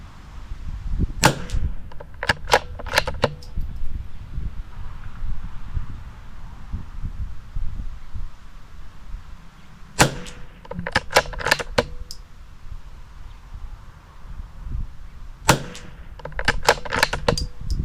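A rifle fires quick five-shot groups, heard as three separate bursts of sharp, loud cracks in fast succession with quiet gaps between them.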